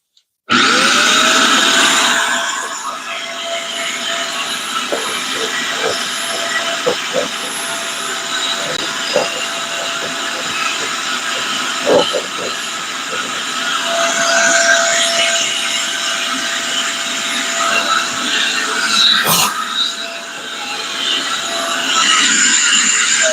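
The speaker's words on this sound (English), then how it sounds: "I'm going to run the vacuum cleaner." A vacuum cleaner runs continuously nearby, a steady loud whine and rushing drone with occasional clunks as it moves, and a voice is faintly heard under it.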